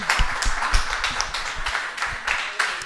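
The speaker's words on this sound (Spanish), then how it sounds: "Pues le damos un gran aplauso a esta escuela dominical." A small congregation claps in applause for a Sunday school group at a church service, with scattered, uneven hand claps in a loose rhythm at moderate volume.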